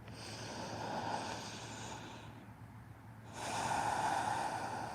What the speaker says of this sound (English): Nice big inhales and exhales.